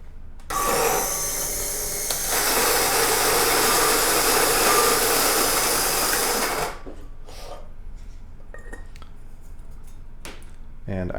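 A coffee grinder grinding coffee beans, a loud close whirring buzz that runs steadily for about six seconds and then cuts off, followed by faint clicks and handling sounds.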